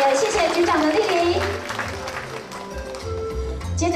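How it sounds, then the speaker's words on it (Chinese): Applause from a ceremony crowd in Kaohsiung honoring outstanding school traffic-guard volunteers, as officials are welcomed, a steady patter of clapping running beneath an announcer's voice over a loudspeaker. "掌声欢迎局长，也谢谢局长的莅临"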